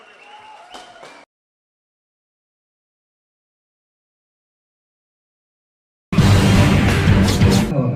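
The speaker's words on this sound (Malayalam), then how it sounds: "നല്ലൊരു കയ്യടി നമ്മുടെ കുട്ടികൾ" Applause at a stage show for the children: after a brief voice and a long silence, dense clapping suddenly breaks out loud and close and keeps going to the end.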